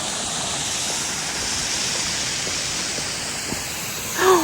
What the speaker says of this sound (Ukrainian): А там річка шумить.